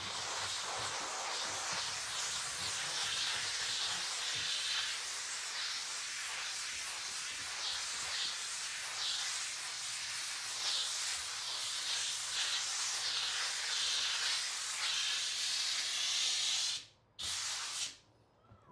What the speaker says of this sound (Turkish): Bayağı bir yoğun buhar verdik.